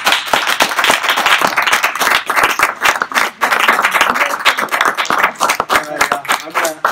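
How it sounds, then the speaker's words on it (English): An audience at a gala summit talk claps loudly in a burst of applause, with brief dips in the sound and voices cheering among the clapping. "big round of applause"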